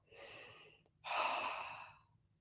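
A slow, deep inhalation taken as part of a breathing exercise, with a brief faint breath before it and then a long, loud, close airy intake that fades out after about a second and a half, with no talking.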